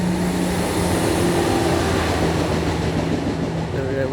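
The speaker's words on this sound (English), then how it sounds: "there's a train coming now" Steady rumbling roar of a passing train, loud and continuous throughout, with a low droning tone and rattling wash that stays close the whole time.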